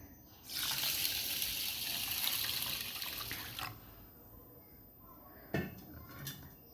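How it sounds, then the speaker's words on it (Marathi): Water poured into a pot of rice and toor dal, a strong rushing pour for about three seconds, then a few clinks and splashes of the pot, no talking. "यामध्ये आपण पाणी घालायचे"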